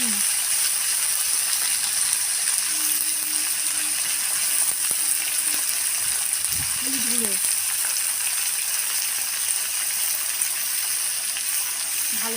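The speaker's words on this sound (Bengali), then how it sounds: "ফুলকপি আর আলু এটা আমি একসঙ্গেই দিয়ে দেবো।" Cauliflower and potatoes frying together in a pan give a steady, even sizzle throughout, with a few faint clinks and a short low knock partway through.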